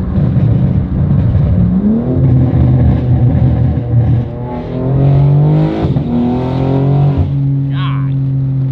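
A 1000-horsepower Ram TRX pickup truck engine revs loudly and close, its pitch climbing and falling in repeated surges, with voices talking over it.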